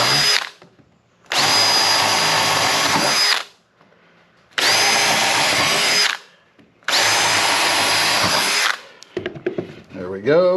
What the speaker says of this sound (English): Speed this drill up a little bit.